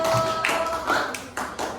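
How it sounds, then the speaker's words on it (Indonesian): Short bursts of classroom clapping from a group of elementary pupils in an Indonesian language lesson, several uneven claps trailing off over under two seconds. "Tepuk tangan buat kelompok 4."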